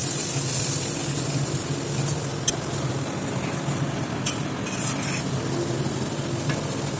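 A spiced fish mixture seasoned with salt and turmeric is stirred in a pan, giving a steady scraping, sizzling wash with a few light metallic clinks and no talking.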